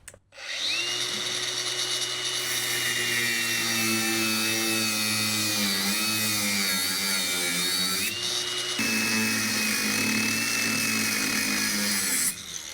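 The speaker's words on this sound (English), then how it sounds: "those new cutoff wheels from Harbor Freight are darn good. Just diced right through that" A Harbor Freight cutoff wheel cuts through tack welds on a brace under a 1973 Dodge Charger, giving a loud, sustained high-pitched whine with strong tonal harmonics that shifts briefly mid-cut and stops abruptly near the end.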